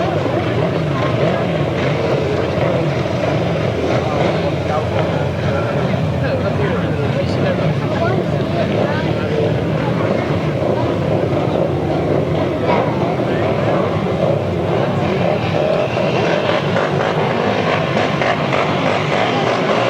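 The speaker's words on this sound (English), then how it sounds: "So we stay with the left-hand sidecars as we cross the page to race 11." Left-hand grasstrack sidecar outfits racing at the 1995 National Grasstrack Championship finals, a dense, continuous roar of several engines at steady loudness under a commentator's voice throughout.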